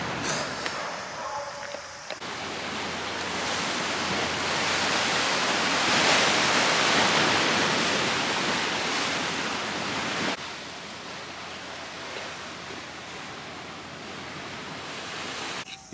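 Surf washing onto Katsushima Beach on a Japanese island, a steady broad roar of breaking waves that swells through the middle and drops a step partway through, continuing evenly to the end with no voices.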